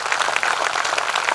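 An audience at a ceremony for selected IIT and NEET students applauds loudly, a dense steady wash of many clapping hands.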